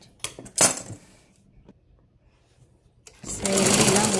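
A sewing machine stitches the side seam of a blouse in quick mechanical bursts, a short run at the start, then a pause, then a steadier rattling run near the end.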